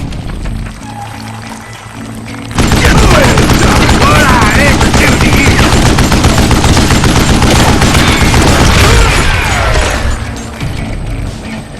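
Heavy gunfire in the Western shooter game Call of Juarez Gunslinger: a dense, loud barrage of overlapping shots that erupts suddenly after a quieter stretch and crackles on steadily for about eight seconds before easing off.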